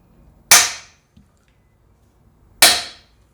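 A stuck bicycle seatpost and its clamp crack sharply twice under a pulling force, two loud, abrupt snaps about two seconds apart with quiet in between.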